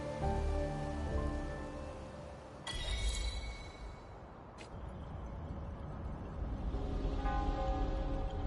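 Steady rain in the video game Wuthering Waves patters and hisses throughout, with a couple of sharp clicks partway through, fairly quiet and with no talking.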